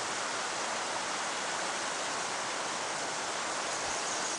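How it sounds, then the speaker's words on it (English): Steady, even rush of running water from small mountain streams fed by trickling runoff in a high-elevation hemlock and fir forest, a constant broadband wash that holds the same level throughout with no voices. "water starts to trickle down and finally turns into small streams"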